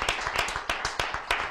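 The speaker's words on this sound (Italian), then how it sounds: "fatelo l'applauso" Scattered hand claps from an audience at a cyclocross race event in Vittorio Veneto, a handful of distinct sharp claps spaced irregularly over a thin, brief burst, fairly close and moderately loud with no voices.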